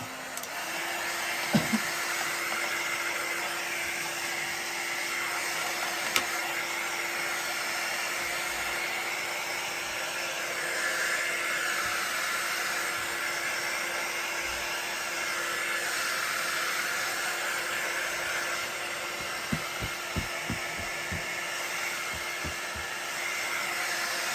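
A hair dryer drying paint on a black and white painting that will get oils over it, a loud steady motor whir with a hum running continuously, with a few small knocks and clicks near the end and no talk.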